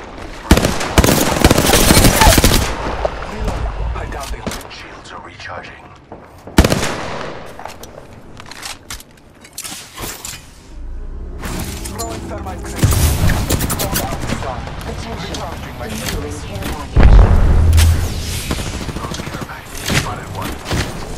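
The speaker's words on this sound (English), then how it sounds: "Getting shot at." Heavy video game gunfire in loud bursts of rapid automatic fire and thuds, separated by brief quieter gaps, with a voice speaking over parts of it.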